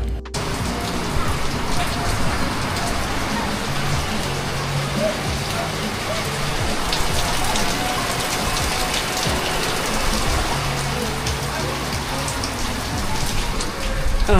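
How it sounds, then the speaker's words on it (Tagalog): Steady rain pours down at an outdoor grilling spot, a continuous dense hiss filling the background throughout, with some voices faintly present. "Wait, umulan pa."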